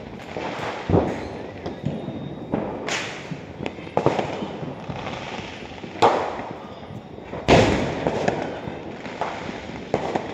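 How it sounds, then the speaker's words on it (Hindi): Firecrackers bursting during Diwali, heard from a rooftop: repeated sharp bangs at irregular intervals, some near and loud, others distant, over a constant crackling background. "हर जगह बम्बी बम बज रहे हैं और कहते हैं बम बैन है।"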